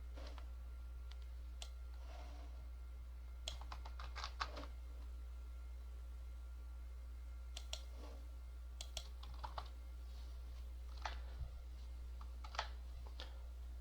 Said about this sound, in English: So this is what we're going to type in.